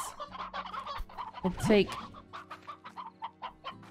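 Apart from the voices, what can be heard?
chickens clucking in Slime Rancher video game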